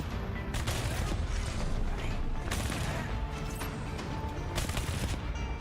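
Automated turrets open fire in the video game Endfield, a rapid run of gunfire that fills the whole stretch with dense, crackling shots and a few louder bursts, with no voice over it.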